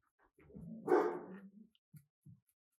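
A dog lets out one loud bark up close, followed by a couple of short, quieter yips or huffs, with silence between them.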